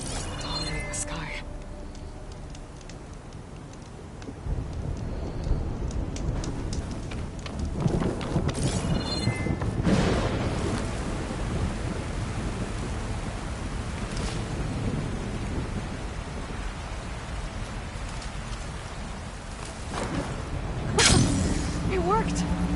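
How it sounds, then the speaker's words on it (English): A thunderstorm rolls through the video game Horizon Forbidden West, with steady rain and low rumbling thunder. A louder crack of thunder sounds near the end. "storm's turning, dominating the sky."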